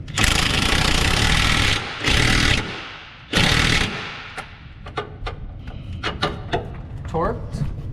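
An impact gun drives a socket to tighten fasteners on a 2005 Chevy 1500 pickup, heard as three loud, sustained buzzing bursts, followed by lighter metallic clinks and tool handling nearby.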